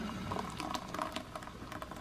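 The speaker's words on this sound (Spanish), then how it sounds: "Ya está hirviendo acá." Milk boiling in a pot at home, a busy bubbling patter of small pops and soft hiss, close and steady with no talk.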